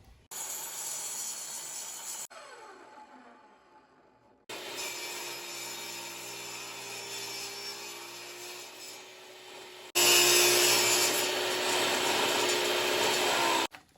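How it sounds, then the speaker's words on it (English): Miter saw cutting wood at a 15-degree angle for an outdoor bench, with a high motor whine spinning up, a steady loud cutting roar, a pause as the blade winds down, then a louder second cut ending abruptly. "You can use a miter saw, which I'm going to show you right now."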